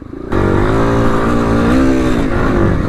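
A Honda SP motorcycle accelerates hard on a trail ride, its engine bursting in loudly and climbing in pitch through the gears, a close continuous roar with no talking.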